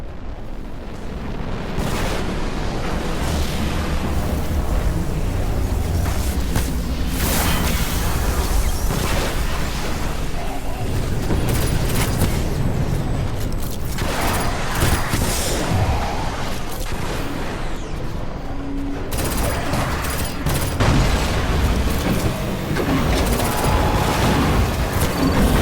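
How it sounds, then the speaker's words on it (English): Fallen artillery explosions and gunfire in the Destiny video game pound continuously, with dense overlapping booms and bursts of shots forming a loud, sustained battle din, no voices. "Fallen artillery inbound."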